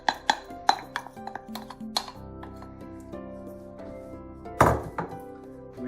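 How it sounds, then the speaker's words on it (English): A wooden spoon knocks and scrapes around a bowl while gingerbread ingredients are mixed, giving a run of quick clunks, then a quieter stretch and one louder scraping bump near the end. "we just want to mix these ingredients together so as they're all combined"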